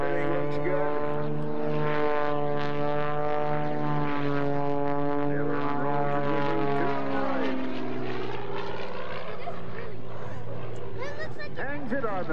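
An aerobatic propeller plane drones steadily through a routine at a 2004 airshow in Twin Falls, its engine pitch sweeping up and down as it rolls and dives, with an announcer talking over it.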